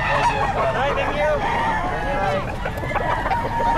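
Chickens clucking at a pet market in Bocaue, with rooster crows and overlapping fowl calls close by, a dense, busy chorus running steadily under a distant voice.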